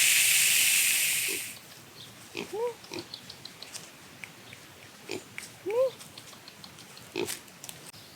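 Pigs grunting and squealing softly around a nipple waterer, with a loud hiss of water spray at the start followed by scattered close snorts and grunts.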